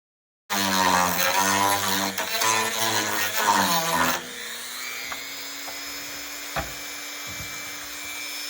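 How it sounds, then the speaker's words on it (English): A loud power drill whines and bites into a wooden stand-up paddle board for about four seconds, then cuts out, leaving a steady hum and a few faint knocks. "Well, we got a much better drill with this one."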